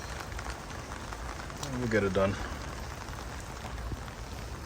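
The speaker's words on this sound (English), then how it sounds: "I'm just trying to wait for the rain to simmer down." Steady rain falls in an outdoor setting beside a truck, a continuous soft hiss throughout while someone speaks briefly over it.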